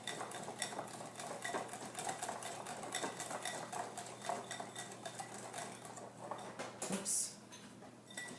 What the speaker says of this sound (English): you have to constantly be beating this in order for this to work